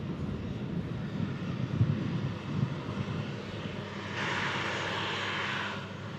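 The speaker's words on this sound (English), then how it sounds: "It's the Embraer Phenom we saw arriving in earlier." An Embraer Phenom business jet departs, its engine noise a steady moderate rumble that brightens into a louder hiss toward the end.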